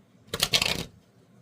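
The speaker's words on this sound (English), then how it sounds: "Let's do one more shuffle." A deck of cards is riffled once in a quick, close half-second burst of crisp flutter, with quiet room tone before and after.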